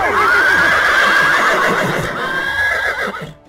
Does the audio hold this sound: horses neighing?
yes